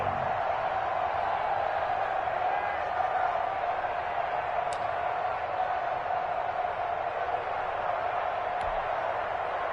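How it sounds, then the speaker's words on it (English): Crowd cheering in an American football video game swells as a big third down approaches: a steady, diffuse stadium roar that holds at an even level throughout, with no voices over it. "the crowd getting into it as we come up on a big 3rd down"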